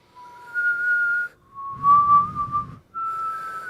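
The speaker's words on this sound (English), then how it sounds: "I whistle easier when I suck inwards." A person whistles by sucking air inward, producing three sustained, steady tones with short gaps between them, close and fairly loud, with a breathy low rumble under the middle note.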